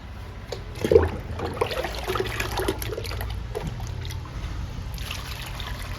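Aloe vera liquid pours from a container onto indoor houseplants, a soft trickling, dribbling splash that comes in uneven bursts and stays close and moderate in volume, with no talking.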